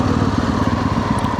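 A Hero XPulse 210 motorcycle engine drones steadily while riding off-road in the Savandurga hills, a loud, close, even rumble for a brief moment with no talk.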